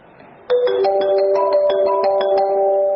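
An electronic telephone ringtone starts abruptly and plays a loud, close melodic pattern of repeating tones that holds steady for the rest of the moment, with no talking over it.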